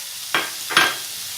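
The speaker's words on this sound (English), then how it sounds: "I'm going to take my steak that I've thinly sliced and put it in a hot skillet with a little bit of" Thinly sliced steak is laid into a hot skillet with olive oil, giving two quick bursts of sizzling over a steady background hiss of frying.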